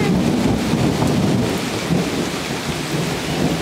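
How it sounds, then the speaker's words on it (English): Steady heavy rain with a low, rolling rumble of thunder underneath, continuous and fairly loud, no voices. "Let's see if we can catch a big loud thunder again."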